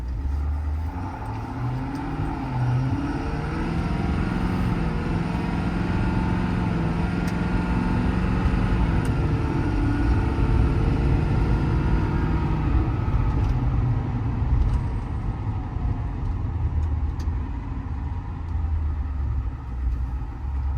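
A 2020 Ford F550 diesel truck with an 11-foot Adkins bed and an IMT crane, showing 170k miles, drives and turns around off the road, its engine a steady, close, continuous rumble throughout with no talking.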